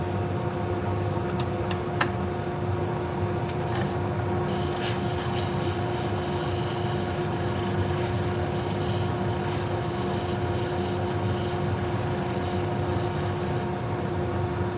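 Salon shears grind against a coarse polishing pad on a motorized sharpening machine, a steady loud abrasive rubbing with a constant motor hum and a brighter hiss through the middle stretch, with no talking.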